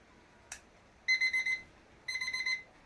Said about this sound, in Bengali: দেখুন 6টায় অ্যালার্ম হয়েছে।